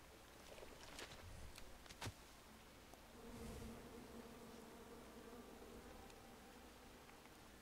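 Angry bees buzzing in the King's Quest video game, a faint, low, wavering drone under soft scattered clicks and knocks, fairly quiet throughout.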